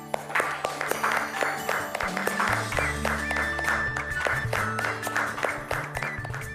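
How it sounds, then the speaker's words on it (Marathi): An audience at an EFT (Emotional Freedom Technique) session claps for the organizers, a steady, moderately close round of applause from a room of people lasting several seconds, with some murmuring underneath. "ऑर्गनायझर्स साठी आपण टाळ्या वाजवूया"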